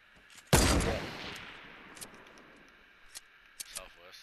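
A loud burst of gunfire in a Fortnite Battle Royale duo squads match opens sharply and decays over about a second, followed by scattered fainter shots and clicks, with players talking throughout.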